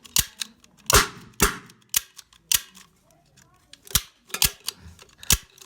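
Sharp snapping shots from a toy gun being loaded and fired go off in quick, uneven bursts close by, with people talking in between.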